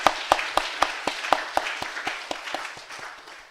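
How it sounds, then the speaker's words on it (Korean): A church congregation claps during a Sunday afternoon service, coming through as a quick run of distinct, fairly even claps that gradually fade and thin out over a few seconds. "그리고 우리 담임 목사님을 위해서, 담임 사모님을 위해서 한번 박수 더 쳐드리겠습니다."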